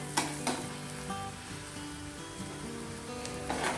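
Cashews fry in a pan with a steady, soft sizzle and a few brief scraping stirs, close and fairly quiet with no voice.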